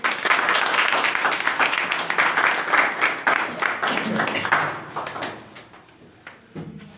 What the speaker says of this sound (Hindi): इसके लिए ताली बजाएं